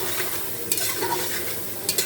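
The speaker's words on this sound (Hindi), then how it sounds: "और इसमें शामिल करेंगे जीरा और 5 मिनट तक हम इसे भूनेंगे।" Cumin seeds frying and being stirred in a pan for a beef and ridge gourd curry, a steady close sizzle with scraping stir strokes and a couple of sharper clatters, no talking.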